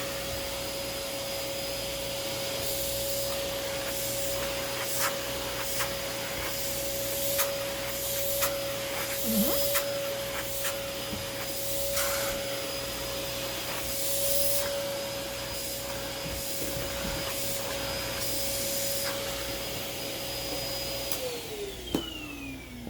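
A Dirt Devil Quick-Lite Cyclonic vacuum cleaner runs steadily and loudly close by, a constant motor whine with airy rushing and scattered clicks and rattles, then winds down at the end.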